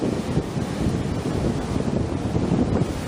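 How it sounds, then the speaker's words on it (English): Steady wind buffets the microphone with a loud, low rumble, a constant roaring bluster that fills the whole stretch with no other clear sounds. "It's too windy."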